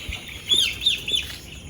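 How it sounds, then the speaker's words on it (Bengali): Young chicks on a layer poultry farm, upset after a power cut, give three sharp, high peeps in quick succession, close by, with no talk. "মুরগির বাচ্চাগুলা খুব চিল্লাচিল্লি শুরু করে দিতেছে"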